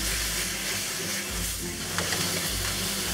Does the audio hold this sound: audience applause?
no